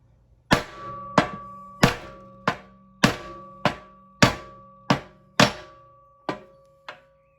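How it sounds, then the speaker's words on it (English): Ten sharp thuds from a rubber mallet striking a metal socket while fitting a PTO shaft seal on a Farmall 450 tractor, at a steady, roughly even pace, each with a brief ringing tone that fades before the next blow. "I'm using a rubber mallet first."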